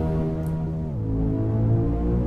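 Engine of a Jeep Grand Cherokee SRT8 in American Truck Simulator drones steadily, with a low, buzzy tone that drops in pitch as it shifts, then holds a constant hum.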